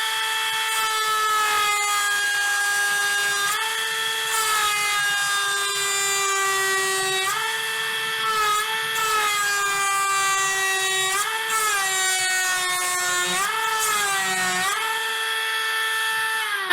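A Ryobi P460 rotary tool runs at full speed while cutting through a 2x4, making a loud, steady high-pitched whine that dips and recovers in pitch several times as the blade loads in the wood.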